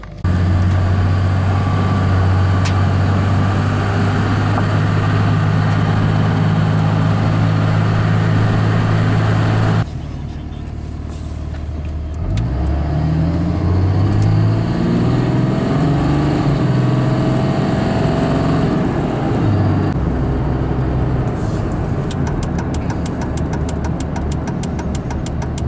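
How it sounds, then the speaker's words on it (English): A first-generation Dodge Ram truck engine warms up at close range, idling loud and steady, then briefly shifts pitch as the revs drop before settling back into a rumbling idle. "Then it drops down a little bit and you can hear it go back to idle."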